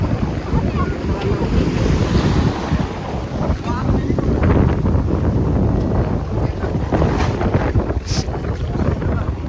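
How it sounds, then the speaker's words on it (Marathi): Ocean waves crash in a constant loud roar on the beach at Alibag, mixed with heavy wind buffeting and the churn of water close by. "लय मोठ्याला लाटा येतात"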